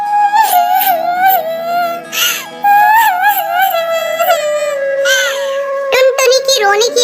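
A cartoon bird character named Tuntuni cries in a high, wavering, sobbing voice, a voice actor imitating the weeping with drawn-out wails and whimpers, loud and close.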